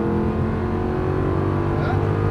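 Aston Martin V8 engine heard from the cockpit on a race circuit, a loud, steady, sustained roar as the car pulls through a corner, with no voices over it.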